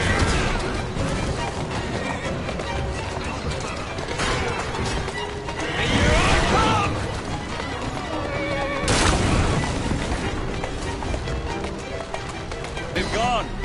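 A horse-drawn carriage rushes through the streets in Assassin's Creed Syndicate, with galloping hooves, rolling wheels, and horses neighing, loud and busy, alongside speech.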